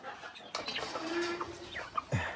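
Backyard chickens waiting to be fed cluck softly nearby, a few short calls and one drawn-out note scattered over a quiet background.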